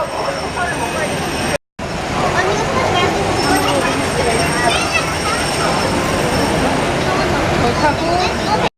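A Disneyland monorail ride with open windows gives a steady rumbling rush of rail and wind noise, loud and continuous apart from a brief cut, with voices talking over it.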